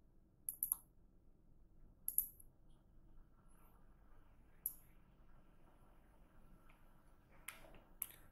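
A few sharp, isolated mouse clicks on a reset password button, quiet and close, spaced several seconds apart with a quick double click near the end.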